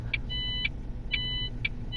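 A truck's reverse warning beeper in On The Road Truck Simulator sounds four evenly spaced, bright electronic beeps over a steady low engine idle, close and clear, with no talk.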